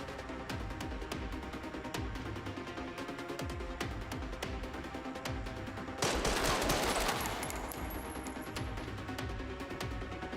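Gunfire in the video game Resident Evil 9 comes as rapid repeated shots, with a louder, denser burst of fire near the end over a constant game soundscape.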